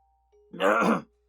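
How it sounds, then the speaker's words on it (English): A short, gravelly throat clearing lasting about half a second, heard close and alone against a faint steady hum. "I could clear my throat."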